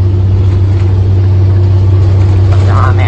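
Cars accelerate hard at night, a loud, close engine drone holding steady and rising slightly, with voices chatting over it.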